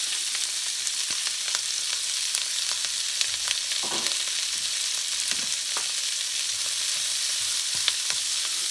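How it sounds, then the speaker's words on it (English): Chopped onion and green pepper frying in hot oil in a pan for garlic chili: a loud, steady, close sizzle with faint scattered pops and occasional stirring scrapes, no voices. "So I'm dumping in my onion and my green pepper."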